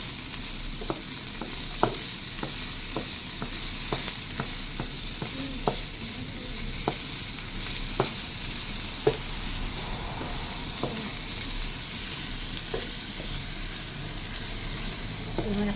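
Pancit noodles being stir-fried in a pan, with a steady sizzling hiss and repeated sharp scrapes and clacks of a utensil stirring against the metal, close and fairly loud throughout with no talking.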